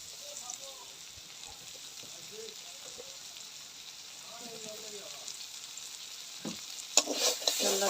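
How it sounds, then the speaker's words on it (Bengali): Mustard oil sizzles while frying in a pan: a steady bright hiss throughout that grows louder near the end as the oil is added, with a few faint clinks. "এবার আমি একটু সরষের তেল দিয়ে দেবো।"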